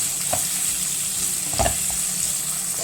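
Chopped onions cooking in hot oil for an egg dish, with a steady continuous sizzle throughout and a couple of brief stirring scrapes near the start and in the middle.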